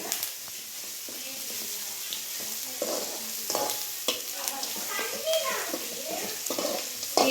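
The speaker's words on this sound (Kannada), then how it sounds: "ಈರುಳ್ಳಿ ಚೆನ್ನಾಗಿ ಫ್ರೈ ಆಗಿದೆ" Onions frying in a pan for tamarind gojju, a steady close sizzle with stirring scrapes and clatters throughout, some faint voices in the background.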